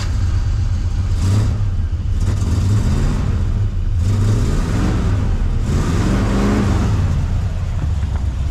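A carbureted engine in a 1982 Ford F-150 revs repeatedly, loud and close, its pitch rising and falling in several surges over a steady idle rumble, with no voices.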